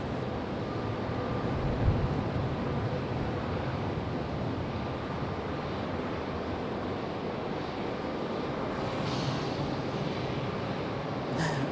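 Delta Airbus A321neo jetliner from Salt Lake City at Raleigh-Durham International Airport, a steady broad engine roar holding evenly throughout, moderately distant with no voices over it.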